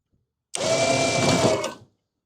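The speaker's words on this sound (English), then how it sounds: "now let's go pull on the winch" A winch whines steadily as it drags a 1968 Ford F100 body onto a Mercury Grand Marquis chassis on a trailer, a loud motor drone lasting just over a second with a sharp start and a fading stop.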